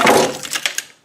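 A wooden brace supporting a Camry engine snaps in half with one sharp, loud crack, followed by a couple of quick knocks as it settles.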